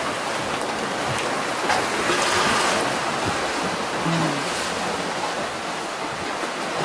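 Continuous rush of ocean water streaming past the hull of a moving Seawind 1160 sailing catamaran, steady and fairly close, with faint creaks underneath.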